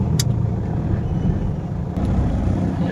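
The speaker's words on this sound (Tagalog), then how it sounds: "Medyo mabigat traffic palabas ng highway guys, palabas ng highway, Sukat highway." Heavy, slow-moving traffic on the Sucat highway makes a loud, continuous rumble of engines and road noise, close and unbroken throughout, with no voices.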